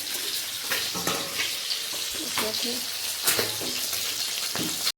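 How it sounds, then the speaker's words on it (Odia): Fish frying in a pan, giving a continuous bright sizzle and crackle throughout with a few louder spits and faint background voices. "ମାଛ ଏଇନା ଭଜା ଚାଲିଛି"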